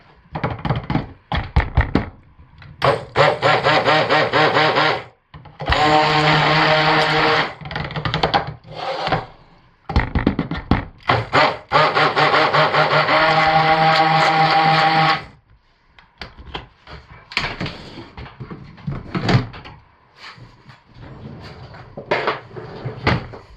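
A blender whirs in loud bursts as it mixes pumpkin caramel fragrance ingredients. Two sustained motor runs are separated by clunks and knocks of the container, and there is no talk.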